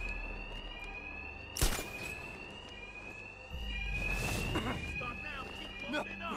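A steady, high-pitched alarm rings continuously in Batman: Arkham Knight, with sharp impact bangs and scuffling over it and a voice briefly heard.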